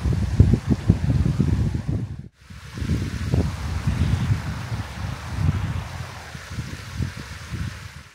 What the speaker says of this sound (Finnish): Nyt on taas kovaa tuulta